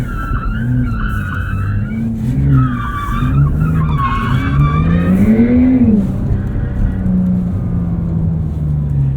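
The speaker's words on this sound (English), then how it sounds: "it's the same concepts that you would with high-speed drifting, just at a lower pace" A 2023 Porsche 911 Turbo S drifts at low speed at the Porsche Experience Center, its tires squealing in long wavering cries over a steady, close engine note that rises and settles, with no talk.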